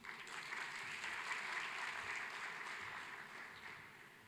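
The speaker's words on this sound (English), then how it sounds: "I'm asking you to give him a louder round of applause." Sustained applause from a summit audience in a conference hall, a continuous even roar of many hands that swells slightly and fades toward the end, faint and distant.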